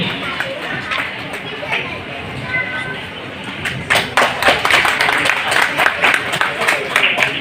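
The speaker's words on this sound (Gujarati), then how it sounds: "આપણે જોરદાર તાળીઓથી એમને વધાવીએ." An audience at an Ahir community gathering in Surat, Gujarat claps to welcome an elder, the clapping swelling from a scattered patter into dense, steady applause from a large crowd.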